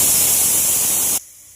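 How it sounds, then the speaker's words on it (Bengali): Steam hisses loudly and steadily from a pressure cooker whistle while mushrooms cook, then cuts off abruptly near the end, leaving faint background noise. "এবার কুকারের ঢাকনাটা দিয়ে একখানা সিটি দিয়ে নেব।"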